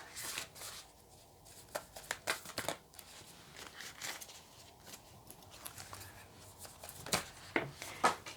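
Oracle cards are shuffled by hand, close and quiet, giving soft, irregular riffling and rustling flicks with brief pauses between bursts.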